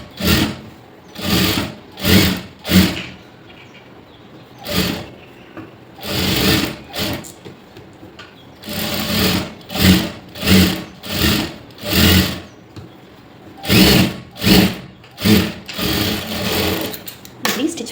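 A sewing machine runs a double stitch on a blouse in many short, loud, close bursts of whirring, separated by brief pauses in an uneven stop-start rhythm.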